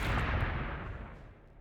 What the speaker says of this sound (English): Let's soften them up with a stick bomb.